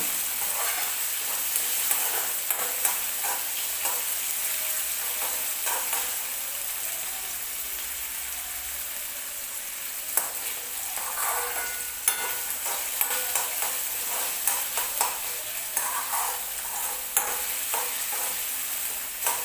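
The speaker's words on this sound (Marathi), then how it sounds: "त्यानंतर तुम्ही छान परतून घ्यायचं आपल्याला परतू होईपर्यंत" Chickpeas sauté in a pan for a dry chole dish, a constant close sizzle with repeated spatula scrapes and light clatter running throughout and no one speaking.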